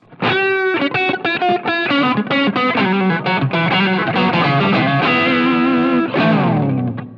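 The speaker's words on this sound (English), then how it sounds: "I'm obviously playing a Strat, so I'm getting a lot of the natural tones out of the guitar" Stratocaster electric guitar through an amp and effects preset on a POD Go or Helix, a fast run of bright, crisp picked notes with light distortion and chorus, ending on a sustained chord, loud and alone.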